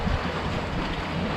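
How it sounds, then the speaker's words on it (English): A steady wash of sea waves and wind noise at Bodrum, Turkey, constant and fairly loud, with no voices. "about the sound of the sea."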